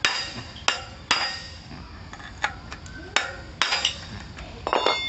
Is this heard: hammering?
yes